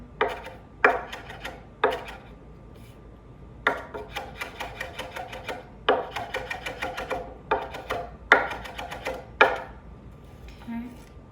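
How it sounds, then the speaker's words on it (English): Ingredients chopped on a cutting board for coleslaw with orange and fennel, rapid bursts of knife taps in several quick rounds separated by short pauses, close and clear with no talking. "Just gonna give them a little chop there."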